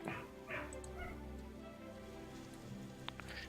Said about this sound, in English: My puppy is whining in the other room